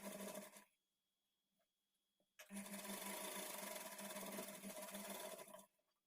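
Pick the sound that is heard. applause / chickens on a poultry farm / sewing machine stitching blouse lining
sewing machine stitching blouse lining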